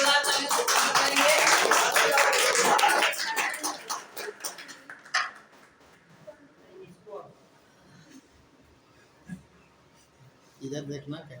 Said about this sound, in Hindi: ललिता कुमारी के लिए आप सभी जोरदार ताली करेंगे।